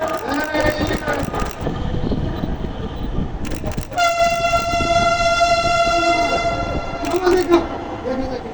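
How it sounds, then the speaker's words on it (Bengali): A Dhaka metro rail train arrives at an elevated line, rumbling steadily and loudly, with a sustained tonal horn or motor whine in the middle. Voices are heard in the background. "মেট্রো রেল চলে আসছে।"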